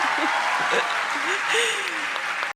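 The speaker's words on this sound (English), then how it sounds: "She gets a big applause" An audience applauds Meghan Markle after she speaks a little Spanish, with dense steady clapping throughout that is overlaid by voices and some light laughter.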